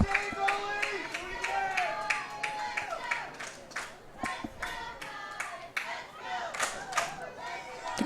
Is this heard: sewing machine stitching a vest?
no